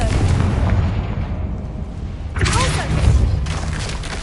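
A Confringo spell bursts into an explosion in the Hogwarts Legacy video game, a dense booming roar that swells again midway and rumbles on under faint game sound.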